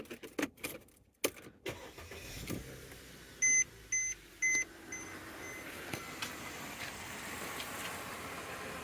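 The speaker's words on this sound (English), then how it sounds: "Now we just want to turn the car on and check if everything works." A Mercedes-Benz C300 started after a parking bulb replacement: a few clicks and a short crank, then several evenly spaced electronic chimes over a low, steady idle, recorded close and fairly quiet.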